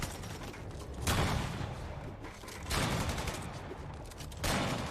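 Sniper gunfire in the Spider-Man Remastered video game on PS5: three loud, sharp shots spaced roughly a second and a half apart, each with a broad crack and a short tail.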